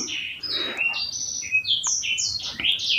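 A Javan green leafbird from Mount Merapi calls repeatedly with bright, varied whistles and chirps, clear and fairly close, over faint background hiss.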